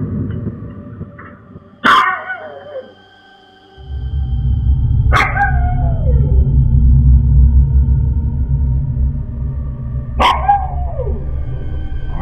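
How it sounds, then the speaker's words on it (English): A dog near a wall in a house barks three times at wide, even intervals. The sharp barks are loud and close, over a steady low rumbling background. "In this video, a dog seems to notice something near the wall."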